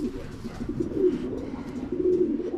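Racing pigeons in a loft coo softly and repeatedly in a low, murmuring rhythm, a steady close chorus with no talk over it.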